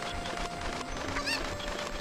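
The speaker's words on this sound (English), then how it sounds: "Get in there, stupid chicken." A chicken squawks briefly in The Legend of Zelda: Ocarina of Time, a short, sharp cluck rising over busy game background sound.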